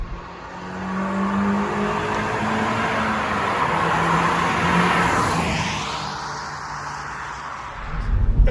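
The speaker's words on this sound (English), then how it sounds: "my car sounds normal until VTEC kicks in, and then you get that lovely subtle sound" Honda-style VTEC car engine fitted with a Pipercross Performance air filter, revving up under hard acceleration with a steady rising drone and a sharper intake note as revs climb, loud and close with no talk.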